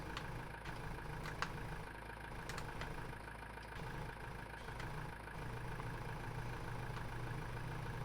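Small tractor engine idling in Farming Simulator 19, a steady low rumble holding at an even level throughout with faint clicks and ticks on top, no voices.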